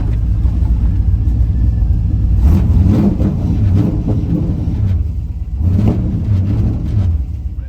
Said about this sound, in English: So just give it a little rev and see what happens.